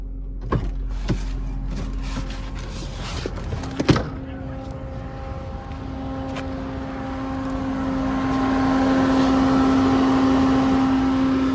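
A Tata sedan's electric radiator cooling fan keeps running after the engine is switched off, a steady whirring hum that swells and grows louder toward the end, with a few faint clicks early on and no talking.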